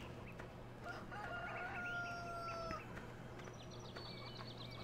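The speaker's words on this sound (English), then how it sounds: "Feed the chickens." Chickens cluck and a rooster crows in a farm yard from the video game Farming Simulator 2013, with long crowing calls across the middle over a steady low hum, fairly quiet and with no talk.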